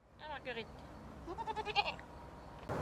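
Small goats grazing in grass in the Loire Valley give a series of short, wavering bleats, one early pair and then a quicker run of calls, fairly near in a quiet outdoor setting.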